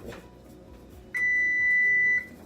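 One long, steady electronic beep from an oven signalling it has finished preheating sounds for about a second over quiet background noise.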